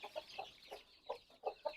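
Chickens clucking in a coop, one of two halves holding about 25 chicks each. Short, soft clucks come in irregular bursts, fairly close and on their own with no talk.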